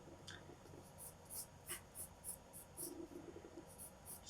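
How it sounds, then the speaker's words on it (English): A 2B pencil sketches a line on paper while drawing a TIE Fighter: soft, close scratching strokes repeat in a quick, even rhythm, quiet and alone with no talking. "we can just very basically sketch out a line"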